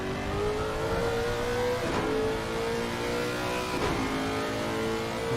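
Race car engine heard from the cockpit in a GT3 racing video game at Suzuka, a loud continuous drone rising and falling with quick gear shifts, no talk over it.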